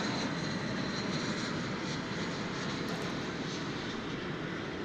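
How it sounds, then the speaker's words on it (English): An Airbus A321 arriving from Indianapolis at Dallas Fort Worth airport makes a loud, steady broadband jet roar that fills the whole stretch without pause or voices. "This Airbus A321 comes to us by way of Indianapolis, Indiana."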